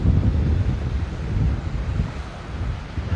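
Strong wind at Lanikai Beach on Oahu buffets the microphone in a loud, low, continuous rumble, with surf washing faintly beneath, and no one speaking.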